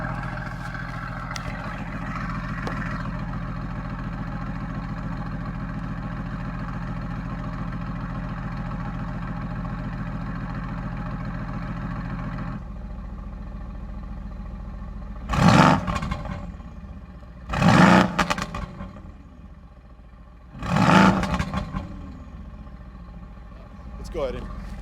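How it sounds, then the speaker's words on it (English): A 2016 Mercedes-AMG GT S idles with its exhaust valves closed, a muffled low rumble that shifts partway through, followed by three short, loud throttle revs spaced a few seconds apart, recorded up close. "I'll get a couple revs with valves closed"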